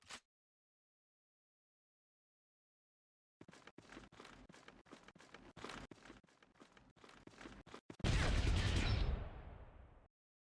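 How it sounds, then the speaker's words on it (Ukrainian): After a long silence, rapid bursts of submachine gun fire in the video game Fallout Tactics crackle in quick succession, then a loud, heavy blast rumbles and fades. "От із цього трішки спробуємо постріляти."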